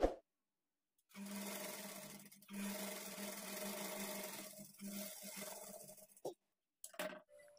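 A sewing machine runs steadily while stitching a blouse seam with a half-inch margin, a close, continuous motor hum with a few short pauses and a brief final burst.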